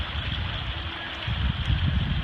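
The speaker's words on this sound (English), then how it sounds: "Very powerful river." A steady, broad rush of a powerful river flowing past a muddy bank, with a low rumbling undertone that swells slightly toward the end.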